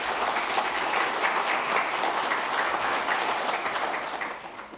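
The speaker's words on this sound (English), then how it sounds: "So a round of applause for our authors" A conference audience applauds the QEMU authors at a keynote status report, dense continuous clapping from a large room that holds steady and then tapers off near the end.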